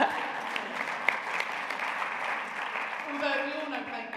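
Audience applause at a women's sport congress panel, a steady broadband patter of clapping lasting throughout, moderately loud with a faint murmur of voices underneath.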